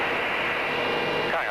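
A BAE Hawk jet trainer in flight during a spin test gives a steady, loud, broadband engine roar that fills the whole clip, with radio-like talk layered over the noise.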